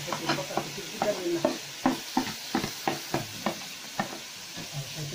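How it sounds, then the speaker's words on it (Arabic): Onion frying in ghee and oil for stuffed vegetables (mahshi), steady sizzle broken by repeated sharp scraping and stirring knocks of a utensil against the pan, close and fairly loud, with no talk. "هنحط البصله اهي بقى على السمنه والزيت"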